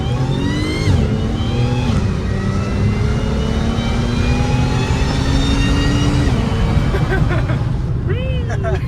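A supercharged car accelerates hard, its engine rising in pitch in sustained pulls with clear drops at each gear shift, loud and close, while people talk over it.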